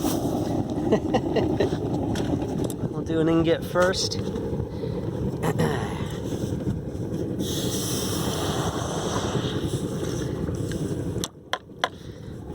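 Molten aluminum from a melt is quenched in water, giving a steady hissing sizzle that lasts several seconds, with a person talking over it and a few sharp knocks near the end.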